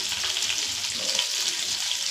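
Whole cinnamon, cloves and cardamom sizzle steadily in hot oil in a pan, a continuous close bright frying hiss with no voices.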